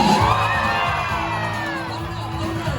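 Crowd noise from an audience at an animal actors stage show at Universal Studios, a broad swell of cheering and whoops sustained loudly throughout with a steady tone sounding beneath.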